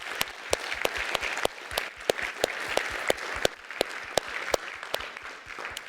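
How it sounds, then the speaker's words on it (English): Audience applause after a microscopy talk, with individual sharp claps standing out from a moderate, steady patter of hands in a room. "Let's give one more round of applause."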